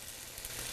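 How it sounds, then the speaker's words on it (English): Food sizzles and fries in a pan on a home stove, a steady, close hiss crackling continuously with no voices over it. "This is sizzling."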